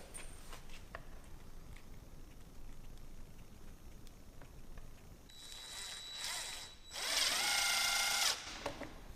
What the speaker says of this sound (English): I screw that purlin down with that Phillips head screw.